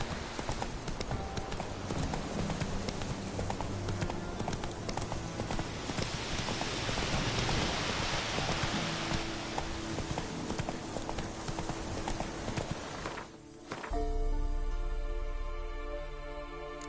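Roach the horse trots in Witcher 3, hooves clip-clopping in a steady rapid rhythm over a rustling outdoor ambience for about thirteen seconds before the scene shifts to a quieter sustained tone.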